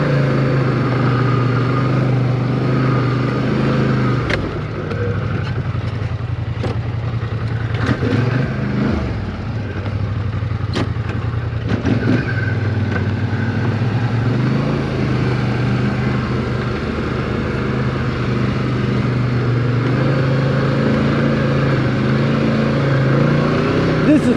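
A dirt bike engine drones and revs while trail riding at Pinelane ATV park, loud and continuous with shifts in pitch and a few sharp knocks, while someone talks over it.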